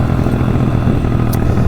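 A small-engine dirt bike runs steadily close by, its even, buzzing motor note holding without a break and with no voices over it.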